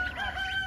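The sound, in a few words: goose honking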